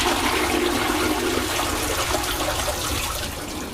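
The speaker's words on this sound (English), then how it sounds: "The toilet and sink are interconnected, so any water used for washing hands are then reused for flushing." Eco-friendly toilet flushing with recycled handwashing water at the Singapore Grand Prix venue, a steady loud rush of flushing water lasting throughout and tapering slightly at the end, with no voices.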